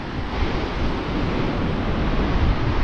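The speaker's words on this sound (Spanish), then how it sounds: "Y mirad las olas que hace." Ocean waves at a sea cliff make a constant, loud broadband roar of surf mixed with wind buffeting the microphone, with no clear individual wave breaks.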